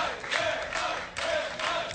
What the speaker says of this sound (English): I don't know what they're cheering for.